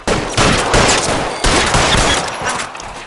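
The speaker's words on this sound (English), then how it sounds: "I'll lay down some suppression fire" Loud, dense bursts of suppressing gunfire in the video game L.A. Noire, with rapid shots packed into several back-to-back volleys.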